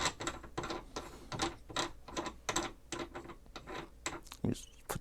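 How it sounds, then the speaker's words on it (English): A resizing die is screwed by hand into a reloading press while preparing .375 Ruger Alaskan hunting loads, giving a run of close, quiet metallic ticks and clicks in a steady threaded rhythm. "I'm screwing it in."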